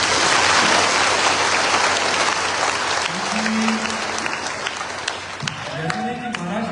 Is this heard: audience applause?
yes